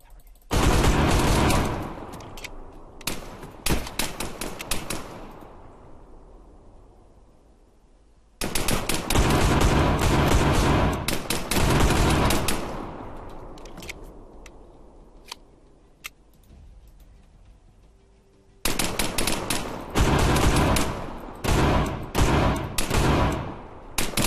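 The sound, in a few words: gunfire in the video game Arma 3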